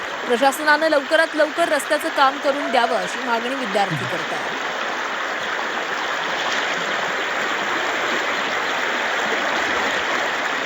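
Rainwater rushes steadily over a washed-out road after heavy rain, a broad continuous flowing roar, with a voice talking over it for the first few seconds before the water continues alone.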